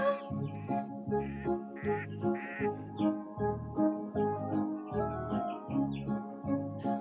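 A voice sings a children's song, repeatedly imitating a duck with nasal quack-like calls in a steady rhythm, about a dozen in a row.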